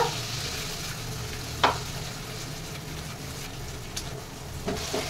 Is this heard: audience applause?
no